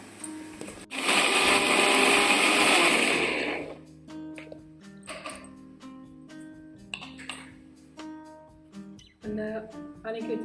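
A mixer grinder whirs tamarind for a chutney in a loud burst of about three seconds, then stops, leaving light clinks and knocks of the jar and lid.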